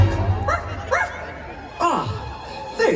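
A dog barking in a Disney Halloween fireworks show, several short yips and bow-wows in a spaced rhythm over a soundtrack of music and narration.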